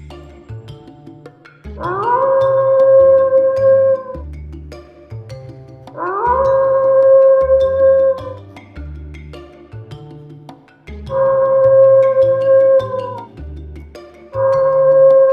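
A fox howl plays from a tape recorder hidden in bushes outside a house at night: three long, loud, wavering howls that rise and hold, each separated by a low rhythmic rumbling background.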